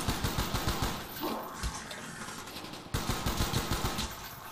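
Rapid automatic AK rifle fire in a zombie video game, two sustained bursts of evenly spaced shots separated by a short lull, loud and dense.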